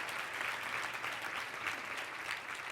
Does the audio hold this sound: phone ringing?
no